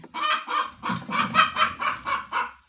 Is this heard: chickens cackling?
yes